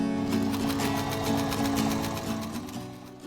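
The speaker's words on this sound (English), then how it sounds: "And then just sew and sew and sew some more rows." Sewing machine running steadily as it stitches rows on dress fabric, a fast, even mechanical whirr with rapid needle ticks, close and alone.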